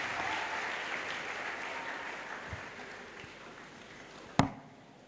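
A crusade crowd at an evangelistic healing and deliverance gathering applauds for the Lord, a steady diffuse wash of clapping that slowly fades, ending in one sharp loud knock near the close.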